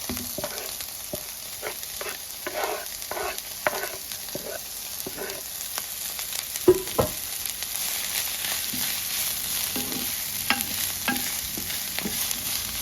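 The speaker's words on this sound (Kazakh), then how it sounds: "қызып тұрған табамызға пиязымызды салып, пиязымызбен бірге сәбізімізді салып қуырып аламыз." Onions and carrots sizzle steadily in a hot pan while a utensil stirs and scrapes at irregular intervals, with no talking.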